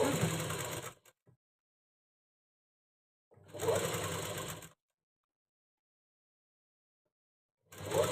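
A sewing machine stitches cotton onto a blouse in three bursts: a steady close mechanical whir for about a second, a longer run after a pause, and a final start cut short, with silence between.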